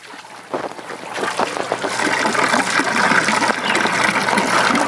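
Water pump restarting and pushing water through a cross siphon, a rushing gush that builds from quieter trickling into a steady, loud flow close by.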